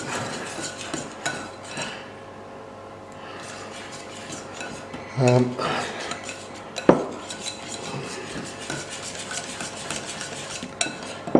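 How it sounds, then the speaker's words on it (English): A whisk beating onion ring batter in a bowl, quick repeated scraping and clinking against the sides, with a couple of louder knocks partway through, close and alone without talk. "So give it a good whisk round."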